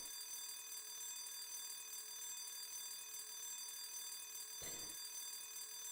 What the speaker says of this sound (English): Yell at the alarm, that'll turn it off.